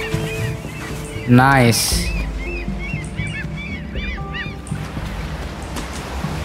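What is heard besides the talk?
bird honking in the video game Unravel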